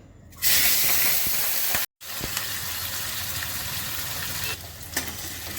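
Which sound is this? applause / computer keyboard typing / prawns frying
prawns frying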